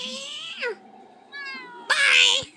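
Daisy the cat meows loudly and close up in a drawn-out call, falls quiet, then gives a rising mew and a harsher, louder meow.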